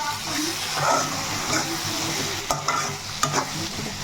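Brinjal and tomato cooking down in oil for a dry fish curry, a loud continuous close sizzle with scraping stirs and a few sharp ladle clicks toward the end.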